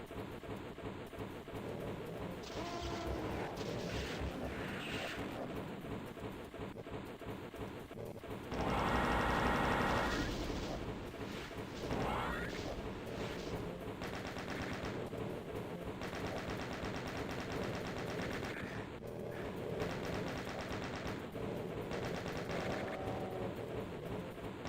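Sustained video game gunfire rattles on for the whole stretch as dense automatic bursts over game sound, swelling into a louder barrage near the middle, with no talking.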